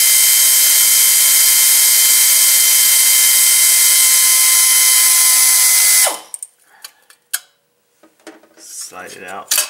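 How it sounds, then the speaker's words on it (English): A power tool whirs steadily at close range while removing the heat shield bolt on a Mercedes-Benz 722.6 five-speed automatic transmission, then stops abruptly, leaving scattered metallic clinks and taps from the workshop. "Remove the heat shield bolt and remove the heat shield."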